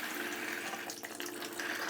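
Aquarium water flowing from a round filter nozzle into a piece of tubing, a steady, faint, continuous rushing trickle with no pauses and no talking.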